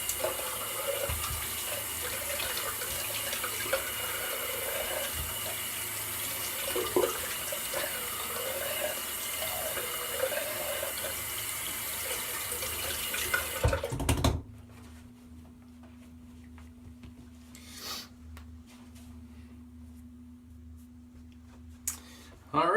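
Tap water runs loudly and steadily into a sink as someone rinses off after a straight razor shave, then the flow is cut off and only a faint low hum remains.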